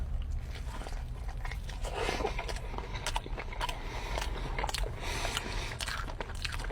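Close, crackly crunching and chewing as someone bites into a crispy bacon-wrapped jalapeno stuffed with brisket and cream cheese, with repeated sharp crunch bursts over a steady, mouthy background and no talking.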